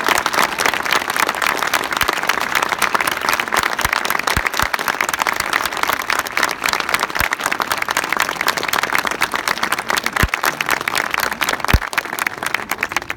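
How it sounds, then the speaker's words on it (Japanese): Stadium crowd applauding steadily at a Shonan Bellmare season-final football ceremony, a dense continuous roar of many hands clapping that holds at full level throughout with no talk. "アカデミーの選手にも今一度大きな拍手をお送りください。"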